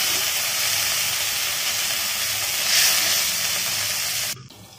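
Water poured into a hot pan of sautéed onions for rava upma, giving a steady loud hiss and sizzle with a brief surge of steam, cut off abruptly near the end.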